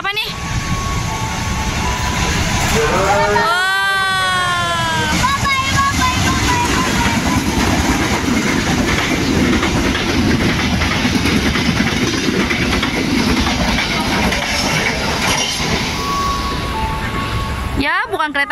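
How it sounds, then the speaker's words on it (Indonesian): A local passenger train rumbles past close by with steady clattering wheels and a brief high squeal of brakes or horn near the start, loud throughout. "Kereta lokal"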